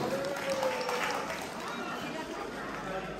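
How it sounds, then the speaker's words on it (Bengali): Audience applause at a Bengali cultural gathering, a soft, diffuse patter of clapping heard at a distance, with murmured voices and chatter blended underneath. "তাদের জন্য আরেকটা করতালি হোক।"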